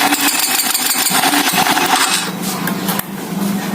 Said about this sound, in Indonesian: Terus kita coba kontak, kita start motornya.